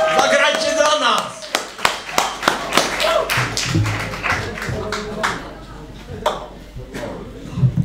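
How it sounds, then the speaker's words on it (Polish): Scattered claps and sharp taps from a small audience applauding a band at a Polish gig, loud and uneven, mixed with crowd chatter and a voice talking over the din. "Dzięki za oklaski."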